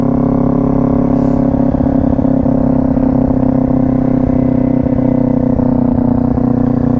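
A motorcycle engine drones loudly and steadily up close, holding a strong low hum after a shift into second gear with no clear surge.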